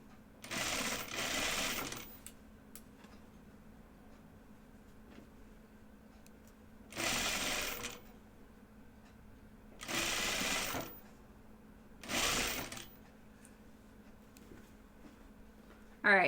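A sewing machine stitches a curved seam in plaid fabric in four separate bursts, each a steady whirring run of a second or two, with quiet pauses between.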